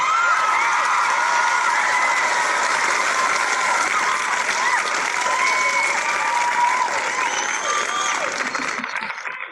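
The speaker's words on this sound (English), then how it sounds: "Let's all give her a fabulous round of applause." Sustained audience applause for an award recipient at a Citizens of Achievement ceremony, dense clapping that fills the room evenly for several seconds before fading at the end.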